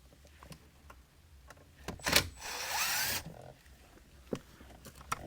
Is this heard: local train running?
no